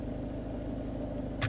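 A DS5 Hybrid4 car engine idles steadily with a smooth low hum and faint periodic pulsing, ending with a brief click near the end.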